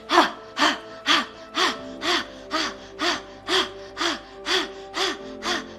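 A person breathes during a yoga flow: a steady run of about a dozen close, evenly spaced breaths, each a short rising rush of air, with no talk.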